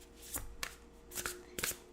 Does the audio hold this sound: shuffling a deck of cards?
yes